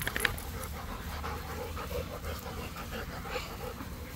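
Dogs panting steadily and rapidly up close, a continuous breathy rhythm with a brief whimper near the start.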